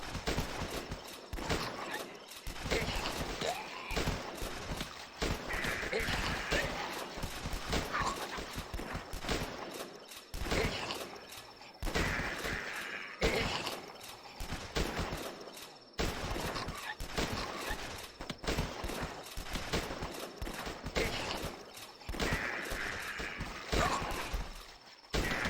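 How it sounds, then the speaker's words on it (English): Rapid, continuous gunfire rattles almost without pause in The Last Stand, a zombie flash game, dense repeated shots under a steady bed of game noise. "Keep shooting like there's no tomorrow."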